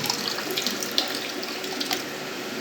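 Water poured into an aquarium while releasing guppies, a steady close splashing and trickling with small bright plops throughout.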